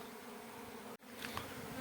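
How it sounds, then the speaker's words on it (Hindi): Honeybees swarm around a hive set inside a hole in stone, giving off a steady, dense buzzing hum that is close and continuous with no voices over it. "मधुमक्खियाँ जो है फैल चुकी है, उड़ चुकी है, ये देखिए दोस्तों यहाँ वहाँ।"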